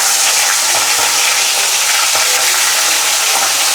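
A hilsa fish head, salted beforehand, sizzles in hot oil for a Bengali village-style curry, giving a loud, steady hiss throughout with small crackles and pops, no voices.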